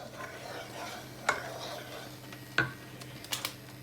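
Food is stirred in a pan on the stove while pesto-sauced pasta is being made at home, with a low background hiss broken by three or four sharp utensil knocks against the pan.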